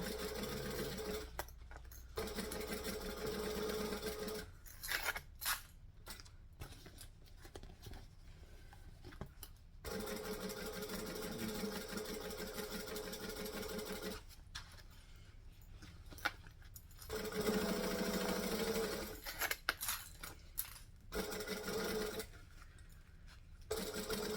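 A sewing machine stitching fabric held up and fed under the needle, several bursts of steady motor hum separated by short pauses, with faint handling noises in between.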